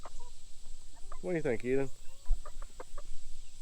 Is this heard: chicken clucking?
yes